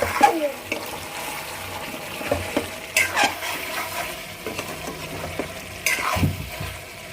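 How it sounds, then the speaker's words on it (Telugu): Chicken masala curry is stirred in a pot with repeated wet, squelching scrapes and clinks of a spoon against the metal, close and fairly loud, with a faint simmer underneath. "చూసారు కదా చికెన్ బాగా మగ్గింది ఒకసారి మిక్స్ చేసుకుందాం"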